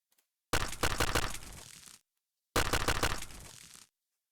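Two rapid bursts of automatic gunfire strike a target in the Bullet Ballistics 2 video game demo, each a dense rattling volley lasting over a second, loud and close, separated by silence.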